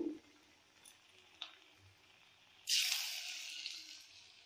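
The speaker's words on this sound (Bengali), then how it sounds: "এভাবে একে একে তেলের মধ্যে দিয়ে দিতে হবে।" Potato pakoras dropped into hot oil set off a sudden bright, crackling sizzle that starts partway through, stays loud and fades slowly, after a few quiet clinks.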